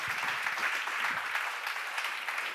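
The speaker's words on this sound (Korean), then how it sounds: "박수를 하나 드리세요." A church congregation at a seminar gives a round of applause, a dense, even patter of many hands heard at a distance and fairly faint, with no voices over it.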